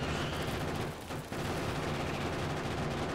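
Rapid, continuous gunfire with red ammo rattles against biters in Factorio, dense and loud, with a brief dip in the middle before the shooting carries on.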